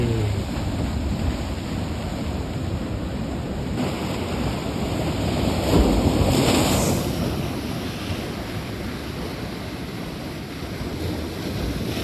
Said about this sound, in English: There were waves crashing.